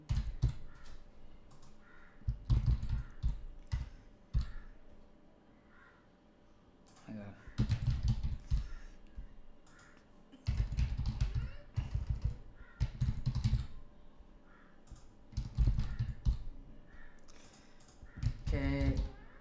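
Bursts of computer keyboard typing, clusters of quick close key clicks separated by short pauses, with a voice heard in between.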